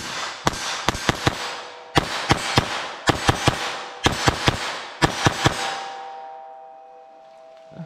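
A .22 Long Rifle fires about seventeen sharp, close shots in quick clusters of three or four, with short pauses between groups and a faint ringing tail after the last burst.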